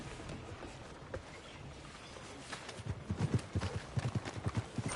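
Horse hooves clip-clop in Red Dead Redemption II, faint at first, then growing into a rhythmic, louder trot of steady hoofbeats.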